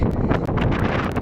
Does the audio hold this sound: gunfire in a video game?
no